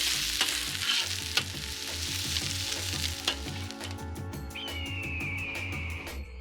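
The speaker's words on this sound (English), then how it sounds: "So start by adding the onions, peppers, okay, stir these ingredients together." Onions and peppers sizzle in a hot pan while a utensil stirs and scrapes in a steady rhythm, the frying close and continuous with a faint high whistle near the end.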